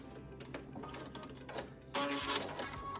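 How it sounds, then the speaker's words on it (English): A Brother Luminaire sewing machine sews a reinforced stitch during free motion quilting, a fast, close mechanical chatter that grows louder and busier toward the end, with no talking. "I'm starting with a reinforced stitch to create a knot."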